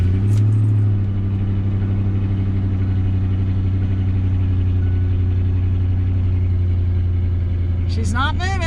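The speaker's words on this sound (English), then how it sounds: "Let's see if turning this engine on will get her." A truck engine idles steadily and loud from start to finish, a low droning hum with a brief rising whine near the end, parked in Lincoln National Forest near Cloudcroft, New Mexico.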